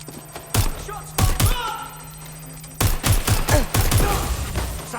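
In the Watch Dogs Legion video game, gunfire rings out as several loud, close bursts of shots in uneven clusters. Short pauses separate the volleys, and faint game voices sound in between.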